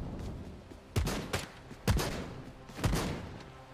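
A golden AK fires in the video game Bloodhunt, with three separate short bursts of gunfire, spaced about a second apart, over a quiet background.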